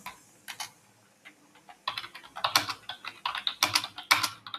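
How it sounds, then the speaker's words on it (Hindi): Fast typing on a computer keyboard during a data entry typing test, with irregular bursts of crisp clicks that start sparse and grow denser, close and clear with no talking. "तो चलिए इसे हम फटाफट से टाइप कर लेते हैं।"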